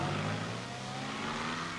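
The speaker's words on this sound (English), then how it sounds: "I wonder now, where will it be she's off to in her wee car this morning?" A small car in a 1940s Scottish Highlands crofting village drives off, its engine a steady, moderately close rumble and whir throughout.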